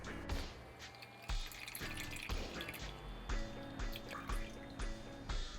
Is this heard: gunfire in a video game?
no